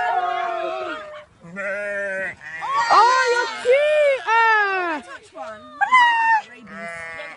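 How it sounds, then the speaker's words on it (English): Several sheep bleat one after another, loud and close, with wavering, overlapping calls in short bursts and brief pauses, met on an outdoor expedition walk. "It's the sheep."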